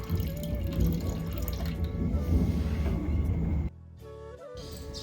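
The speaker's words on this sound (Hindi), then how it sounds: "तेरे पापा इन्वर्टर की बैटरी में पानी डाल है।" Water pours steadily into an inverter battery for several seconds, then stops abruptly, leaving a quiet hum with a few faint drips.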